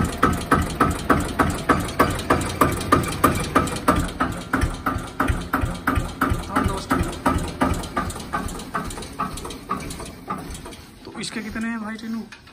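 A tractor engine idles with a steady, thumping rhythmic chug that fades slightly before a brief clatter near the end, heard up close at a tractor sale.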